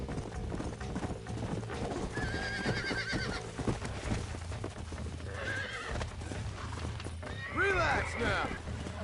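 A horse in the video game Red Dead Redemption whinnies several times over clip-clopping hooves and a steady game backdrop, while a person talks over it.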